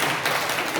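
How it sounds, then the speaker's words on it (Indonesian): Brief burst of audience applause at an Indonesian Catholic religious gathering, a quick dense patter of clapping. "Ayo tepuk tangan juga."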